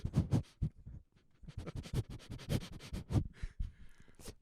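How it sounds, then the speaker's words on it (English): A dog sniffing close at a microphone, quick bursts of snuffling breaths and nasal snorts in irregular clusters, very near and intimate, with faint scratchy contact noises toward the end. "He's sniffing the microphone."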